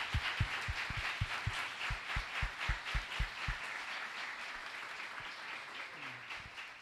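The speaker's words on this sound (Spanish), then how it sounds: "Les pido un aplauso para nuestra mesa." Applause for a round-table panel at a meteorology and climate congress, heard as sparse, distinct, fairly faint hand claps in an uneven rhythm that thin out and fade after a few seconds.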